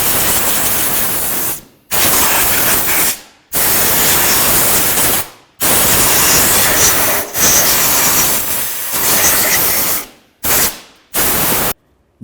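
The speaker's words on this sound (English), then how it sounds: "let's just go ahead and use some compressed air and just make sure it's all out of the way" Compressed air blasts across a Jeep Liberty engine bay, clearing debris during a 2002-2007 valve cover gasket job: loud, close, broadband hissing bursts, several long blasts of a second or more separated by abrupt short pauses, with no talk.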